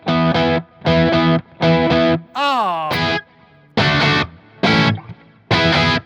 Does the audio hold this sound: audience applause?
no